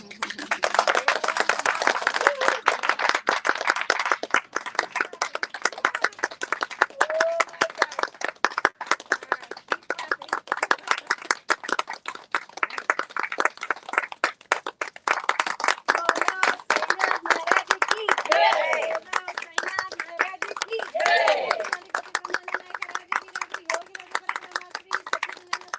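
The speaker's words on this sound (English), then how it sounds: "loads of applause" Sustained applause and clapping from a gathered group at a new moon healing fire ceremony (homa), dense and steady for the whole stretch, with some voices mixed in.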